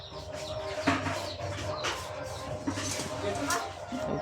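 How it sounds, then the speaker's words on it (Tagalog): Backyard chickens at a provincial home in Samar cluck and call faintly in short bursts beneath people talking nearby. "Yan lang kay tatay mga alagang minok."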